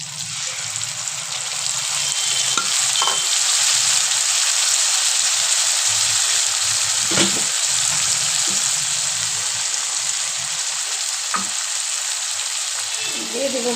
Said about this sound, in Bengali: এবার আমি বেটে রাখা মশলাটা দিয়ে দেব।